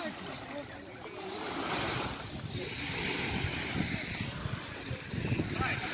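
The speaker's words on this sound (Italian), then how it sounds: "guarda che mare" Waves break and wash onto the beach at Campolongo in a steady, close surf roar mixed with wind buffeting the microphone, while people talk over it.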